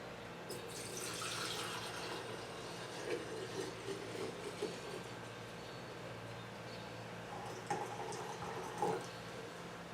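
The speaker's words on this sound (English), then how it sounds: "Fill up our quart jars." Liquid for pecan moonshine is poured into quart jars, a quiet splashing, trickling flow with a few brief bursts and clinks, close by and with no talking.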